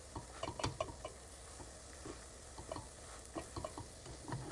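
Bisquick pancake cooking in butter in a hot pan gives a faint, soft sizzle with scattered small pops and ticks, quiet and close.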